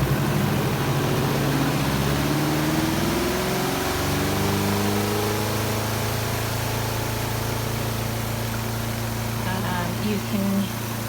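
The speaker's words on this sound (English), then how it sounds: "I'm just going to spin this for 2 minutes" A Kuppet 16 lb portable washing machine spins clothes with a loud, continuous motor hum whose pitch rises as the drum speeds up, holding steady throughout while a voice talks over it.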